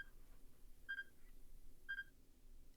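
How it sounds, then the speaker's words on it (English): Two faint, short electronic beeps about a second apart in the video game 428: Shibuya Scramble, thin high tones over a quiet low background hum. "There was a beeping sound."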